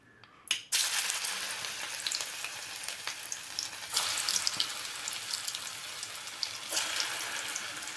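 Balls of bottle gourd kola dough frying in hot oil, a steady loud broadband sizzle that starts abruptly and runs continuously with small crackling bursts, no talking.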